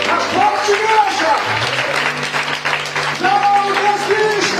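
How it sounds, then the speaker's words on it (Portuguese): A church congregation applauds Jesus: loud, dense clapping runs under an amplified voice and sustained musical tones throughout. "Você pode aplaudir o Senhor Jesus."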